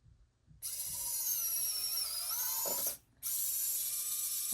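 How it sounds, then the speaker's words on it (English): A small power drill bores straight down through polymer clay, running with a steady high whine, briefly stopping and restarting, close and fairly loud. "And then I'm going to take my drill."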